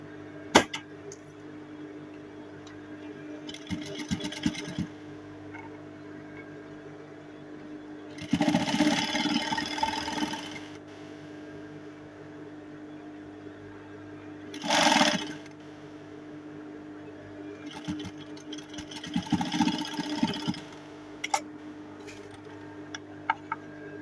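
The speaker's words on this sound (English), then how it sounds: "you go right ahead to top stitch again" A sewing machine top stitches a fabric collar on an Ankara ball dress, running in three separate bursts of a few seconds each, loud and close, with quiet room tone between.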